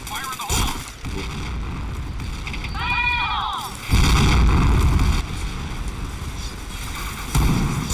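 A grenade goes off in a shooting video game with a loud, booming blast in the middle, set amid busy game effects, chiming tones and heavy background noise, with voices speaking throughout.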